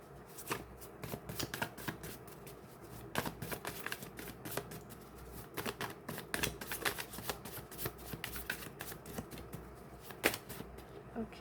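A tarot card deck is shuffled close up, giving a long run of quick riffling and flicking bursts with brief pauses and no talking.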